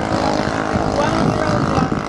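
High-speed racing engine of a 3-meter speedboat in a super-speed elimination race, a loud continuous drone with a steady roar and no pauses across the stretch.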